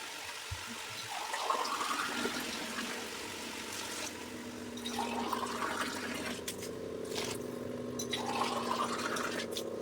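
Water poured into a pot of partly cooked biryani rice in a home kitchen, a steady splashing pour that surges in several waves over about ten seconds, moderately near, with no talk.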